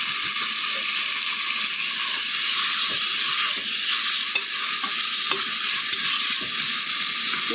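Tomatoes stir-fried with onions in a pan for a chili curry: a loud, steady hiss of frying with repeated scraping strokes of a spatula, close and without any talk.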